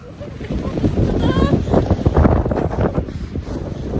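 Strong wind buffeting the microphone on the freezing summit of Mount Rogers, a loud rumbling roar that gusts throughout, with a person talking over it.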